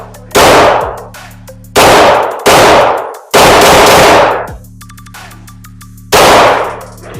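Handgun shots fired outdoors at full speed, five loud sharp reports spaced about a second apart, each with a ringing tail as the sound rolls away, with no voices.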